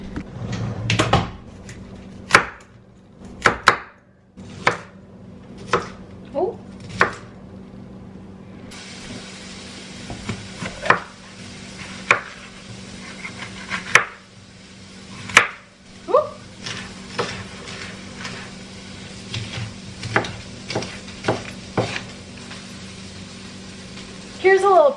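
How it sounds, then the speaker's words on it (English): A knife chops vegetables for a one-pot vegan tikka masala, giving sharp, irregular knocks on a board, close and loud, with quieter handling noises and a faint steady hum between strikes. "so now I have to cut all the veg."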